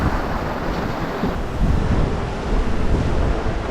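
Strong wind roars across an open ocean from a small boat, with steady broadband gusting and surf wash, loud and continuous throughout with no voices.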